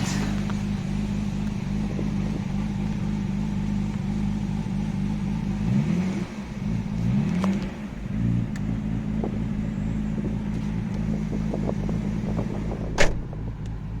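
Nissan GT-R R32 engine running steadily on a road test drive, a constant low drone with a couple of brief rev swells midway and a sharp click near the end, continuous and close throughout.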